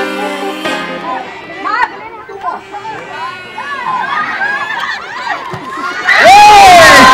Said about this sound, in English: Big cheer, everyone.